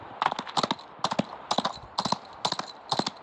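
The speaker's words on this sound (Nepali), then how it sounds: "म घोडा चलाएर जाम" Horse hooves in the PUBG Mobile video game beat out a quick, steady galloping rhythm in repeated clusters of clip-clop strikes, close and moderately loud with no talk.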